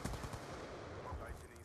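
Rapid bursts of gunfire in a Call of Duty Hardpoint match crackle in quick succession, fairly faint and compressed, with a busy background of game sound.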